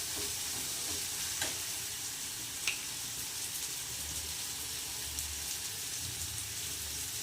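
Garam masala frying in a pan for pasta, an even, dense sizzle held steady throughout, with a couple of faint clicks of a stirring spoon.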